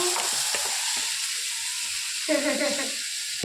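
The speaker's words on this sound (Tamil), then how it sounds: "அம்மா ஊற்றிட்டாங்க ஜிலேபி" Jalebi batter hits hot oil and fries with a continuous bright sizzle and hiss, steady and close, with a few soft stirring clinks and bubbling bursts near the end.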